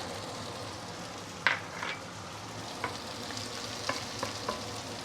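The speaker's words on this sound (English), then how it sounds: "I'm going to put in the noodles, put in the veggie, put in a bit of the crispy pork lard" Steady sizzle of Penang-style fried kuay teow noodles with vegetables and crispy pork lard in a hot pan, with a few sharp clanks of a utensil stirring and tossing, close and continuous.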